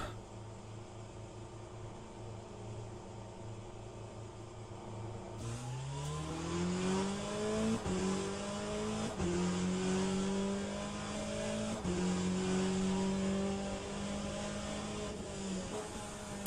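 A race car engine in the game Le Mans Ultimate idles, then revs and climbs through several gear shifts, a steady synthetic drone with rising whine, no talking.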